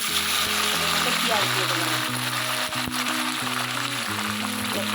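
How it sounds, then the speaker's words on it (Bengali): Soybean chunks fry in hot oil, a steady broadband sizzle running throughout, close and loud, with low tonal hum from music underneath and brief bumps as pieces are handled. "এরকম করে একে একে ভেজে নিই"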